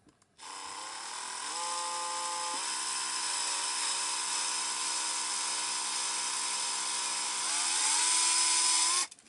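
A power drill with a 4.5mm bit whines at a steady high pitch, shifting slightly as it bites into the plastic head of a 1978 Kenner Star Wars figure, running continuously for several seconds.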